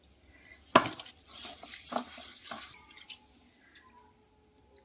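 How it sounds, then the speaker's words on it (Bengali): Rice being washed in water in a home kitchen, with sloshing and splashing bursts, a few drips and a light clink of a vessel, then quieter trickles. "এই যে আমি চালটা ভালো করে 3-4 বার ধুয়ে নিয়েছি।"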